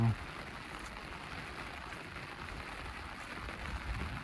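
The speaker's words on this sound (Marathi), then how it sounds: "खूप पाऊस पडतोय" A steady broadband hiss of rain falls continuously, fairly close and even in level throughout.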